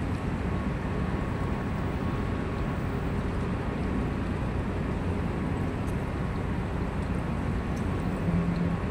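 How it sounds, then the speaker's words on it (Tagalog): A steady, low roar of wind blows throughout, broad and unbroken, with faint rustling on top and no talking. "Lakas talaga yung hangin."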